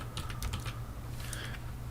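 Code is typed on a computer keyboard in a short burst of quick, soft key clicks, two small clusters of taps that are faint and close, with no talking.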